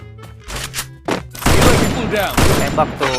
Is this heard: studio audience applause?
no